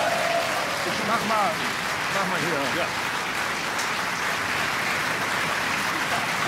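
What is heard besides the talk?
studio audience applause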